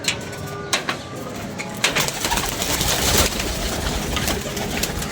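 Chapra Cheena and Teddy pigeons cooing together in a loft, a steady, close chorus of soft throaty coos with occasional wing and perch shuffles, no one talking.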